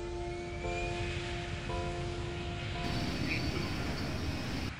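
A jet airliner takes off with a loud, steady engine roar and a high whine, holding strong throughout with no voices.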